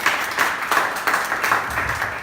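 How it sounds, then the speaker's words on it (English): An audience applauds for a presenter named Raj at a live media event, a steady wash of many hands clapping that holds fairly loud and even throughout. "Big round of applause for Raj, everyone."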